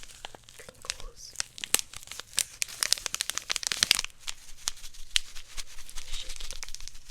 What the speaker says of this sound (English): Crinkles.